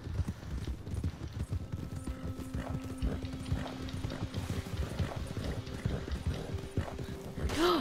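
Horse hooves from Red Dead Redemption 2 clop in a rapid, uneven run throughout, mid-level and fairly close, layered with a steady game backdrop and a brief rising sound near the end.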